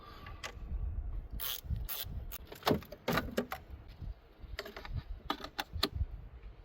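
A 10mm wrench loosening the negative battery terminal on a VW Jetta, Golf or Rabbit gives quiet, irregular metallic clicks and ratcheting taps, close and fairly faint, with no talk.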